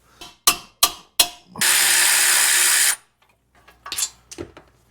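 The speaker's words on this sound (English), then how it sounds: "let's go ahead and start taking this caliper off" A ratchet works loose a brake caliper bolt on a 1997 Mustang Cobra during a suspension overhaul: three sharp close clicks, then a steady ratcheting buzz of about a second and a half, and a few scattered softer clicks after.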